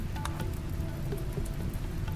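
Steady rain falling in RimWorld, a dense soft patter on surfaces with scattered sharper droplet ticks, constant and moderately loud throughout with no talking.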